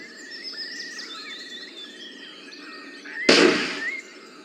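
Expelliarmus spell effect from the Harry Potter and the Chamber of Secrets PS1 video game: a sudden loud whooshing burst erupts after a stretch of twinkling chimes and music, then fades over about a second.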